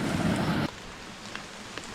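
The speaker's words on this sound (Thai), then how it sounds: "ตอนนี้เกิดฝนเนี่ยถล่มหนักมากๆเลยนะครับ" A heavy tropical downpour roars loudly during a journey through the mountains, then cuts off abruptly to a quieter background patter with a few faint drops.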